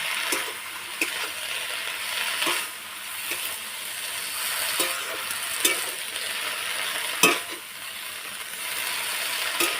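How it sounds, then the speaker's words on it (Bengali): Pumpkin leaves frying in a pan: a continuous close sizzle with repeated scraping stirs and occasional sharper knocks of the utensil against the pan, with no voices. "শাকগুলো দুটো ভেজে নেব"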